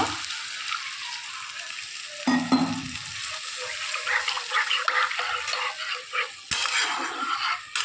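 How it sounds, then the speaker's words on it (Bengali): Water is poured into a pan of frying fish curry masala for shol fish and stirred, giving a close, steady sizzle and bubbling with a sharper splash partway through, and no talk. "এবার আমি এখানে জল দিয়ে দেবো ঝোলের জন্য।"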